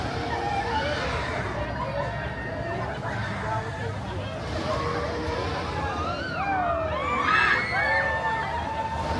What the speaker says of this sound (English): You can hear all the screaming.